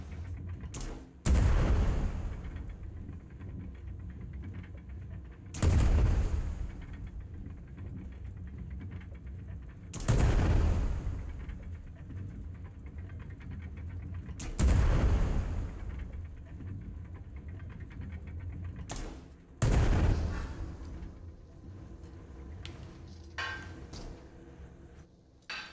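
Slow-firing gunfire in a video game: five heavy, booming shots spaced roughly five seconds apart, each with a deep rumbling tail, over a constant background of game ambience.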